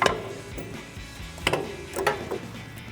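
Hand ratchet working a nut loose on a sway bar link during a suspension lift install on a Toyota 4Runner, giving a few scattered clicking bursts close up with no talking.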